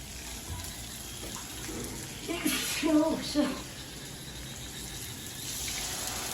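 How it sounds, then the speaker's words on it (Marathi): Water is poured from a mixer jar into a rustic village-style mutton masala curry, giving a short splashing gush in the middle over steady room noise, while a person talks. "याच्यामध्ये पाणी टाकूया आपण"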